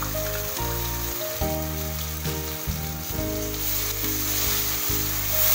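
Onion, ginger, garlic and garam masala paste fries in hot ghee for a paneer masala, a steady dense sizzle running throughout with a tonal hum layered under it, loud and close, no voices.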